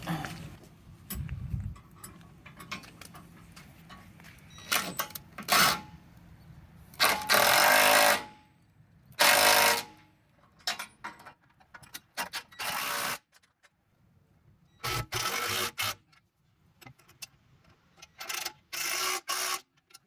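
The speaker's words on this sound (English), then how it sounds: "So I'm gonna start tightening everything, and then after everything is tightened, I'm gonna tighten the inner ones" Bolts are tightened while an Airlift bumper is installed on a Humvee: intermittent bursts of loud power-tool whirring and ratcheting, separated by clanks, metal taps and quiet gaps, close up.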